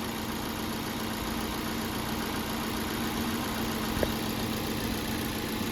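A Chevy Cruze engine idles steadily with an even, low hum and faint mechanical whir, close by and unchanging.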